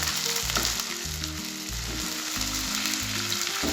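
Ginger garlic paste and mutton frying together for aloo gosht, a loud continuous sizzle heard close up, with low music playing underneath.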